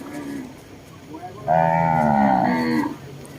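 Thai cattle at a cattle market at Ban Khok Charoen, where one cow lets out a single loud, close, drawn-out moo lasting over a second amid quieter background sound.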